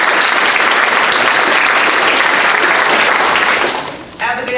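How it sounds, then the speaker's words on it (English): An audience at an evening board meeting breaks into loud, dense applause honoring a student who hopes to become an architect, a steady roar of clapping that holds for about four seconds, then fades and briefly swells again. "Let's give him a round of applause."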